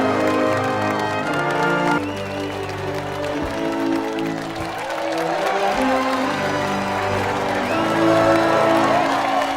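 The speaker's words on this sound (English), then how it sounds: "Still, they applaud them anyways." A crowd applauds and cheers the Fantastic Four in the 2005 film, with clapping, whoops and bustling noise mixed under music and scattered voices.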